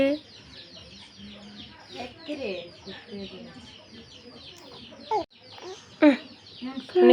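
Chickens cluck in short, repeated bursts close by, mixed with people talking and calling out over them.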